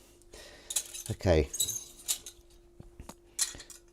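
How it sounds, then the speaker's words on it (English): Tin lids clinking and jangling as they are gathered up and carried during washing up, a few bright metallic clatters close by, with a short spoken word in between. "I'm going to pick up all these tin lids,"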